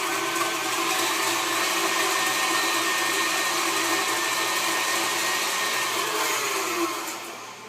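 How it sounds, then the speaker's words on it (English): A KitchenAid stand mixer whirs steadily while mixing chocolate chip cookie dough of almond flour, baking soda and vanilla, a loud continuous motor drone that holds even and then eases off at the end. "we're going to go ahead and turn this KitchenAid on and mix it"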